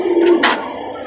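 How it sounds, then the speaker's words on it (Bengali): A female pigeon gives a short, soft coo inside a loft, close and brief, with no talk. "এটা মাদি কবুতর"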